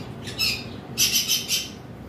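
Blue conure parrots give sharp, shrill squawks, a single call followed by a quick burst of three, close and clear over a faint background hum.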